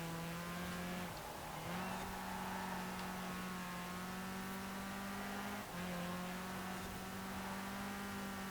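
A rear-wheel drive off-road buggy driven in Forza Horizon 4, its engine holding a steady loud drone with brief dips in pitch as it shifts or lifts off, continuing alone without talk.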